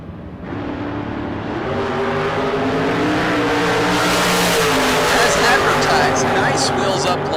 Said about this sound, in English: Nice wheels up launch for Biddle